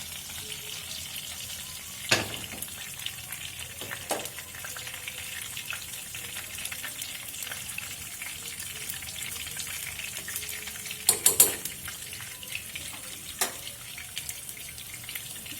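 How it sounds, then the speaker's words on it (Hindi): Garlic frying in hot cumin over a medium flame gives a steady, low sizzle with a few sharp clinks and scrapes of a utensil against the pan. "अब इसके अंदर हम लहसुन डाल देंगे, लेकिन इसको जलाना नहीं है, इसलिए हमने हीट जो है वो मीडियम फ्लेम पे रखी है।"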